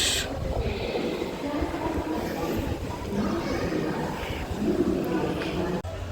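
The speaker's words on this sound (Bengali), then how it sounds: "এইমাত্র এই ট্রেনটা ঢুকলো এটা হচ্ছে গুয়াহাটি আর এস এমবিটি ব্যাঙ্গালোর এক্সপ্রেস" Steady rumbling of the Guwahati–Bangalore express arriving at Bangalore railway station fills the whole stretch, heavy and continuous, with faint voices and station bustle mixed in.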